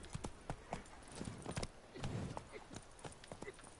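Horse Roach's hooves clip-clop in a steady walking rhythm through The Witcher 3, close and clear, with faint game ambience beneath.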